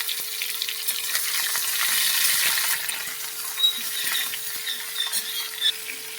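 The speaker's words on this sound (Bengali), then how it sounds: "এটাকে আমি ভাজা ভাজা করে নেব" Runner beans frying in oil with mustard seeds and dried chilli, a loud close hiss and sizzle that swells and then settles, with stirring scrapes and spits, no talk.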